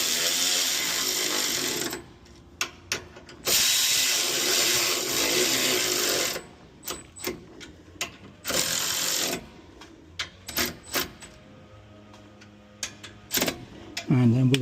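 An impact or power tool tightens the Koni rear shock bolts on a 2016 Ford Mustang GT, running in several loud bursts of a few seconds each, separated by short pauses and brief clicks.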